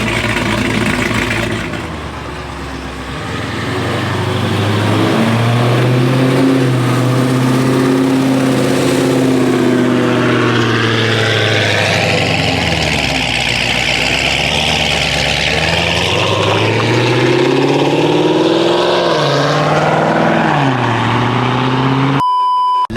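A Whipple-supercharged Dodge Scat Pack V8 idles with a rough, choppy lope, then blips through several loud, close revs that rise and fall before settling back to the uneven idle.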